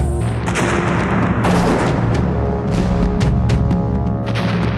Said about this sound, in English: the German cannons and machine guns began to fire on the Herero